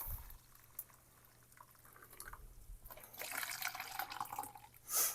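Liquid dye pouring into a jar, a faint trickle that grows into a fuller gurgling pour near the end.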